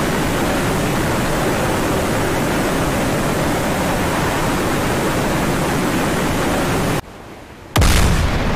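A missile strikes a ship in DCS World, heard as a sustained, loud roaring blast of broadband noise that cuts off abruptly near the end before a short final burst.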